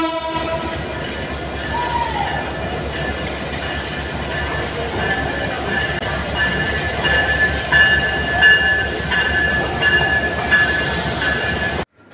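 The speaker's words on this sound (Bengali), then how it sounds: "এই ট্রেনটা কমলাপুর স্টেশনে এখন এসে পৌঁছালো, থামবে, এই জন্য আস্তে আস্তে স্লো করে যাচ্ছে ট্রেনটি" A train pulling into Kamalapur railway station and slowing to a stop, a loud continuous rumble of wheels and carriages with a sustained horn-like tone and faint squeals, no talking.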